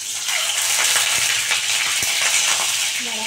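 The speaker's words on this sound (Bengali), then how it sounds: "ডিমটা অল্প করে তেলে ভেজে নেবো" Boiled eggs frying in a kadai of hot oil, a steady broadband sizzle with faint crackles and pops running continuously throughout, close and fairly loud.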